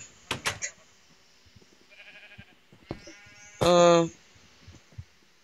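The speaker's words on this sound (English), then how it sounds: "Oh, look, it's my buddy, Sheep." A sheep in a video game lets out a single loud, close bleat, with other short game sounds and clicks scattered around it.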